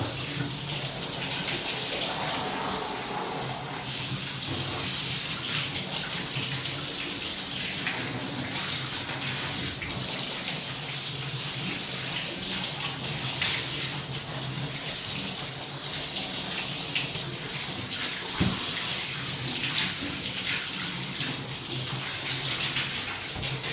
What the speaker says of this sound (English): Now when rinsing the head, you want to make sure you don't get water in the eyes